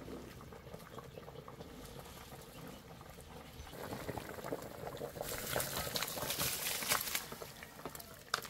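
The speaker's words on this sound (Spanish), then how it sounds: "el agua, mire, está hirviendo aquí con toda la pica pica" Water boils hard in a cooking pot with pica pica sardines for a Dominican locrio, a continuous bubbling and popping that grows denser and louder toward the end, close by.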